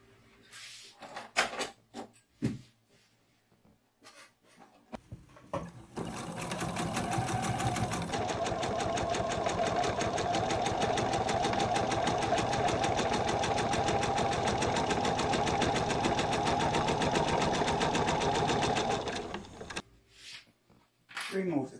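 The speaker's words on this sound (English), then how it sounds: "And stitch on the line at the bottom." A sewing machine stitches a slim line wallet with a steady, loud, close whirring run of rapid needle strokes lasting many seconds, framed by brief clicks and handling sounds before and after.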